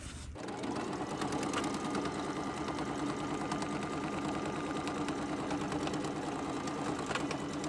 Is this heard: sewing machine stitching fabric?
yes